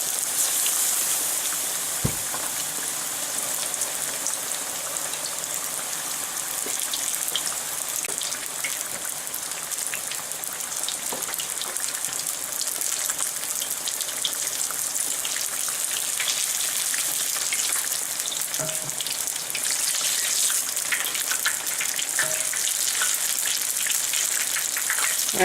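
Fish fillets sizzle and crackle steadily in hot oil in a pan for fish and chips, a dense continuous frying hiss with scattered pops and spatters, close and even throughout with no talking.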